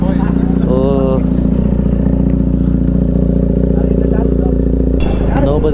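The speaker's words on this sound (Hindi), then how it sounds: "तो फाइनली अपनी बाइक चालू हो गई देख सकते हो" A motorcycle engine idles steadily after its battery problem was fixed, a constant low rumble running loud and close through the whole stretch, with a brief clatter near the end and people talking over it.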